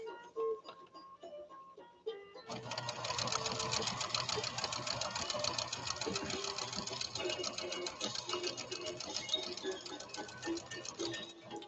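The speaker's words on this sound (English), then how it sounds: "let's do this stitch, 88 for Renee." A Pfaff Creative 1471 sewing machine stitches a decorative pattern, a few slow separate stitches followed by a steady, fast, close rhythmic whirring and tapping that runs to the end.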